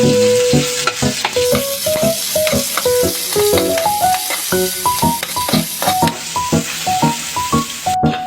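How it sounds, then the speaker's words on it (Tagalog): Ground meat and garlic sauté loudly in a pan, a bright continuous sizzle punctuated by rapid metallic scraping and clinking as a spatula stirs, with music playing underneath and no talking. "Isunod na ang bawang. Gisa na natin ang giling."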